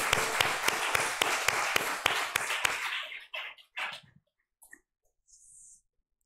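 A church congregation claps in steady applause for a few seconds, then it fades into scattered last claps and near silence.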